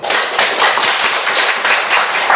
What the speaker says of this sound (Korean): 박수 한번 치십시오